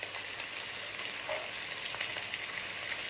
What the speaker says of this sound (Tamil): இந்த வெங்காயத்து கூடயே சேர்ந்து இது வதங்கணும்.